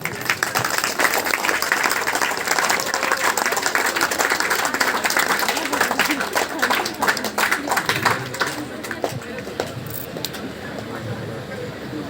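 Loud, dense applause from an audience at a coaching-class function in honour of a chief guest, sustained throughout and thinning slightly toward the end.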